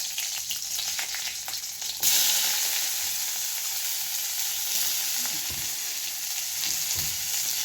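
Mustard seeds and chillies hit hot oil in a wok, the crackling sizzle jumping louder partway through and then settling into a steady, close frying hiss with occasional soft knocks.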